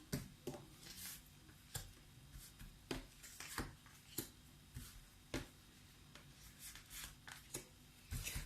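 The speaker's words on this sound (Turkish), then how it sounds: "10 tane kart seçiyorum." Tarot cards shuffled and drawn one by one while ten cards are picked: a run of soft, crisp riffles and sharp card snaps at an uneven pace, close and fairly quiet, with no talking.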